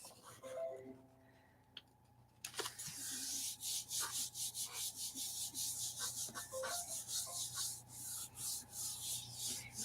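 Paper rubbed by hand onto a gelli printing plate coated with a very thin layer of black paint: quiet rustling at first, then steady rhythmic scraping strokes continuing close up with no talking.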